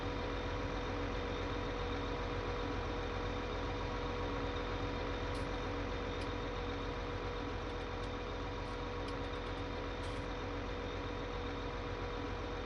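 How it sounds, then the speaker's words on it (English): Rottne forestry harvester engine idling in Farming Simulator 19, a steady droning hum that stays level and unbroken throughout with no voices. "Try to be quiet so you guys can hear the engine."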